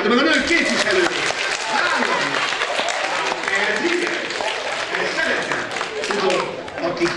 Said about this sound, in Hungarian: Tapsoljátok meg a nők képviselőjét!